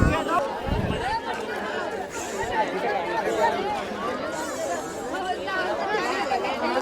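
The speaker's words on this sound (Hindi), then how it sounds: "अब देख सकते हैं इतना भीड़ है" Dense crowd chatter at the Ghazipur international fair during the Samrat Ashok festival, a steady close babble of many overlapping voices with no pause.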